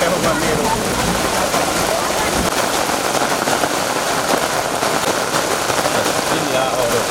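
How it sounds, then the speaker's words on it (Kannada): Floodwater pours onto a submerged road in a steady, loud, broadband rush. The hiss and splashing hold unbroken across the whole stretch. "ಒಳಗಡೆ ಹೋಗುವ ನೀರು"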